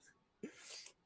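A single sharp sneeze, a quick intake followed by a breathy hissing burst lasting under a second, close and fairly loud, with faint voices around it.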